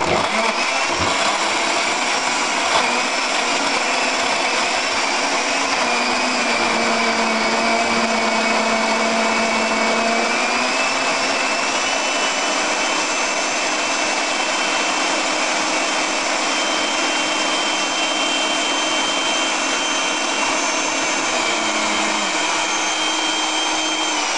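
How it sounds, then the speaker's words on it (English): A 16-ounce personal smoothie blender runs steadily and loudly for the whole stretch, its motor whine holding constant with a slight shift in pitch partway through, with no talking over it. "so let's go ahead and blend these and see what happens"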